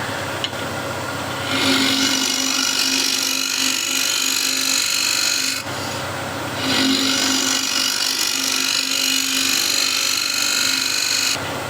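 A standard woodturning scraper with a grinder burr cuts wood on a spinning lathe, giving two long bursts of steady rasping scrape with a short break between, loud and close over the motor's hum, no voices.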